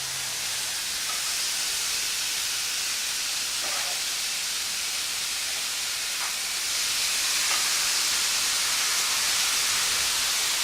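A steady, loud hiss of vegetables sizzling on an oiled hot grill runs continuously throughout, with faint clicks and no voices.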